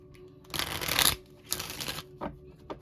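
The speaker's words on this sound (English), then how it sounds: "let me shuffle right quick" Tarot cards riffled close up in two quick bursts of shuffling, followed by a couple of softer taps and flicks.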